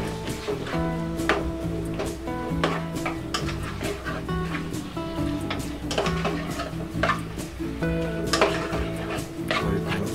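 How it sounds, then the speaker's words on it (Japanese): Chicken curry with garlic, onion, ginger and meat being stirred in a pot, a utensil repeatedly knocking and scraping against the metal in a steady, close clatter with no talking. "よく混ぜます。"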